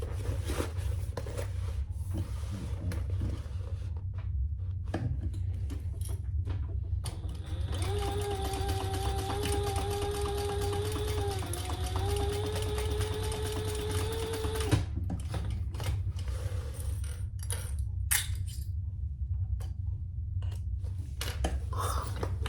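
A sewing machine stitches the seams of a crossbody bag in one sustained run of close, steady motor hum and needle rattle, framed by quieter fabric handling and small clicks.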